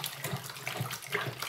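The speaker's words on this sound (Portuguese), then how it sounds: "Tô mexendo bem devagar" Thick homemade liquid soap, a large 31-litre batch, being stirred slowly in a container, giving soft wet sloshing and swirling with faint repeated low pulses, steady and close, no voices.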